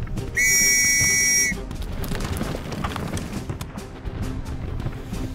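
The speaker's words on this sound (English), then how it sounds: "Wait for the whistle!" A sharp whistle sounds once in a World War I style trench scene at Levant Mine, a loud steady blast of about a second, followed by a low rumbling background of distant booms and battlefield noise.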